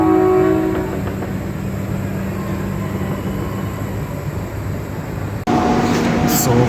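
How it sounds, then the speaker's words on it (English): Train departing a station on metre-gauge track, a steady rumbling rail drone with a low horn-like tone early on, continuous and fairly loud close by, with a sharp shift in character near the end. "So you can see the departure of this train."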